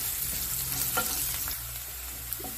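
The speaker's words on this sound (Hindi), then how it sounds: "अब इसमें हम बारीक कटा हुआ 1 प्याज डाल देंगे, और प्याज को भी हम भून लेंगे।" Finely chopped onion frying in a pan with ginger and garlic for baingan bharta, giving a steady close sizzle broken by a few soft stirring scrapes.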